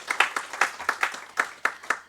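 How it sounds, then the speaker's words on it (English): Audience applause following a lecture, sounding as a sparse series of distinct claps in a fairly regular rhythm, moderately close, with no voices over it. "I request all of you to express that with a vote of round applause"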